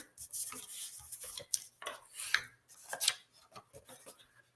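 Red cardstock, 4 1/4 by 11 inches, with score lines rubbed down by a burnishing tool, producing close, uneven scraping and rubbing strokes in short bursts, with no talking.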